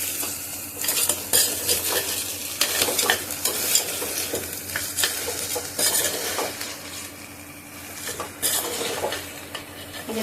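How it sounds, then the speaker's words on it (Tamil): Crab is stirred and fried in masala in a pan, with a loud sizzle and frequent metal spoon scrapes and clanks against the vessel, close and with no voices. "இந்த மாதிரி இந்த மசாலா வந்து அந்த நண்டு மேலே படுற மாதிரி திருப்பி விடுங்க."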